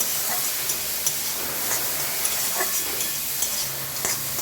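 Vegetables fry and sizzle in a pan for a vegetable chop, giving a continuous bright hiss with occasional scraping stirs and small crackles, close and steady with no talking.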